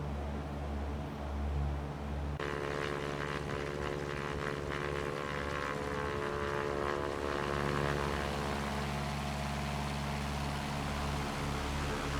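Aircraft propeller engines droning steadily and loudly from inside the plane, a constant tonal hum with a shift in pitch partway through, no voices.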